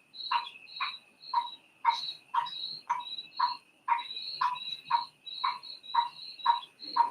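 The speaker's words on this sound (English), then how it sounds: "the cricket noises you hear were playing for the crow to help them relax" A recording of crickets plays indoors in a bathroom for a crow, giving a steady series of bright, evenly spaced chirps, clear and close, with no talking.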